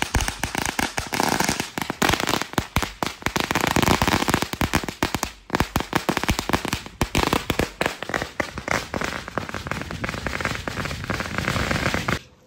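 Diwali firecrackers burst nonstop in a village, a dense run of loud, sharp cracks and pops, near and distant overlapping, with only a brief lull partway through.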